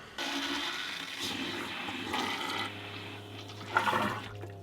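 An RV toilet flushing during winterizing, a steady rushing gush of water with a low hum underneath, close up and lasting several seconds before tapering, no voices.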